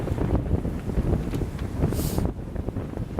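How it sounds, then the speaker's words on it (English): Heavy, steady roar of about 20 knots of wind buffeting a sailboat, loud and constant with low rumbling gusts and a brief hiss partway through. "We got about 20 knots of wind."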